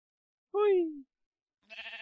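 A black sheep in Minecraft gives one clear, drawn-out bleat with a falling pitch, close and loud. A short burst of other game noise follows a moment later.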